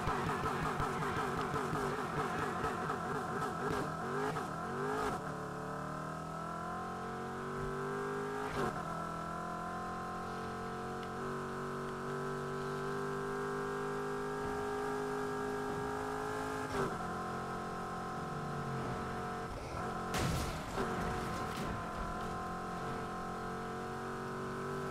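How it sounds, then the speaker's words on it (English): Drift car engine in Need for Speed Heat, droning continuously at high revs, with pitch sweeps and sharp shift breaks as it accelerates and drifts, fairly quiet and steady throughout. "This car is actually pretty fast to be a drifting car, though."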